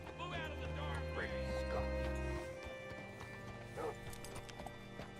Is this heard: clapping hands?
no